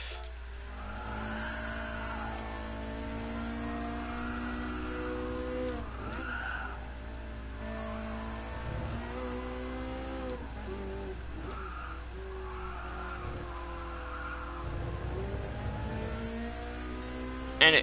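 Ferrari 458 race car in Gran Turismo Sport, engine revving up through rising gear pulls with repeated shifts and brief tire skids, loud and continuous throughout with no talk.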